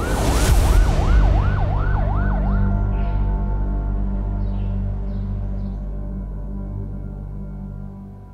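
A wailing ambulance siren sweeps up and down several times, loud at first, then fades away while a steady engine rumble continues underneath.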